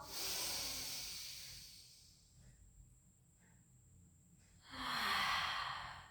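Slow, audible exhalations during a barre exercise, a long breathy hiss fading out, a quiet pause, then another soft forceful out-breath, close to the mic.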